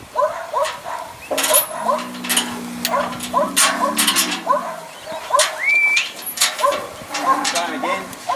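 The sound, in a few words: weaner cattle moving through yard pens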